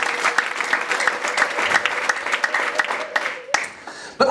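A church congregation applauds during a sermon, giving steady, dense clapping from many hands that fills the space for about four seconds before one sharp knock and a brief dip near the end.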